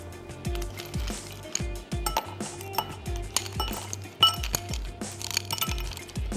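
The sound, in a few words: ice cubes clinking into drinking glasses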